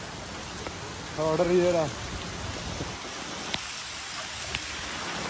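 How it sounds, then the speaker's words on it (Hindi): Heavy rain pours steadily during a monsoon downpour, a broad constant hiss of drops on surfaces, with a voice speaking briefly over it near the start. "ये देखो भैया बारिश कितनी तकड़ी हो रही है"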